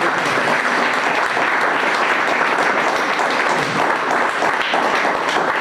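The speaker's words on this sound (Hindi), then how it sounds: "आइए एक बार ताली बजाकर हम परमेश्वर को धन्यवाद देंगे।" A church congregation at a Sunday service claps together in steady, dense applause that fills the room, loud and continuous throughout.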